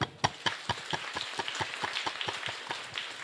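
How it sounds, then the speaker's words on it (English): Audience applause at a formal agreement-initialing ceremony, a steady run of crisp, evenly spaced claps at moderate distance, fairly soft, with no talk over it. "let's give everyone a round of applause for the hard work"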